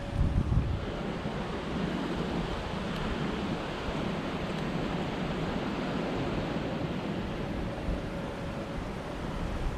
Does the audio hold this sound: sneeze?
no